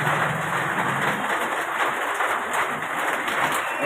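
Rainwater drips and runs steadily from a roof onto a surface outdoors, a constant close patter and splash with no clear pauses, accompanied by faint bird cooing in the background.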